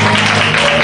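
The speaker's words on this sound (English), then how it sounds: "Let's give them a hand clap." A church congregation applauds visitors with dense, loud, continuous clapping that fills the room without a break.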